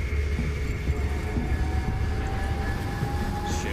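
A steady, droning engine hum from a helicopter in the video game Monstrum, continuous and fairly loud with a low rumble and faint tonal whine, without speech.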